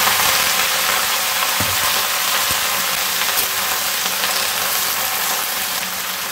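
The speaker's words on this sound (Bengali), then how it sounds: "আর শাপলাগুলোকে তেলে ছেড়ে দেব।" Water lily stems frying in hot oil with cumin and potato give a loud, steady close sizzle and crackle, with a couple of faint knocks from the pan, no talk.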